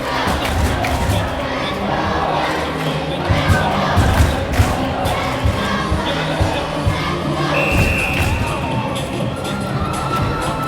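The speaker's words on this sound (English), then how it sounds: "another chant of "Let's go Muskies" breaks out in the crowd" A large crowd chants "Let's go Muskies" at a high school OFSAA hockey game, a dense, loud rhythmic roar of voices with scattered thumps and bangs beneath it throughout.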